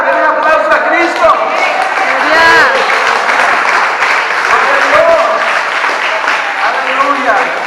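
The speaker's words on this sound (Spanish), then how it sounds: "den un aplauso a Cristo" A church congregation applauds during a worship service, sustained crowd clapping that fills the space, with voices and shouts mixed in throughout.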